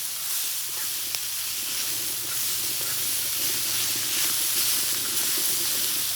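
Onions cooking in a discada over a large outdoor burner with garlic butter, a loud, steady hiss and sizzle that holds evenly throughout with no talk.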